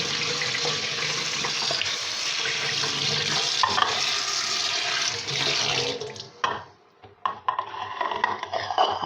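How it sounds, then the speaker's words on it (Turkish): Brined black olives being rinsed under a running tap, water pouring steadily and splashing as the olives are stirred and rubbed by hand, the flow cutting off briefly near the end before resuming in bursts. "Bunu da yıkayacağım."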